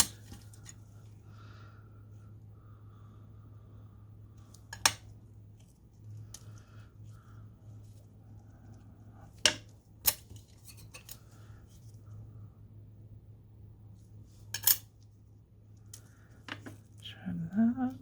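Scissors trim material on a handmade gnome Santa Christmas ornament, with a few sharp, isolated snips and light handling scrapes spread across a quiet room under a low hum.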